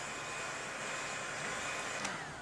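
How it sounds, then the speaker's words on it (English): Hand dryer running in a diner video game, a steady airy whirring hum at moderate distance that ends with a short click, with no voices. "Hand dryer."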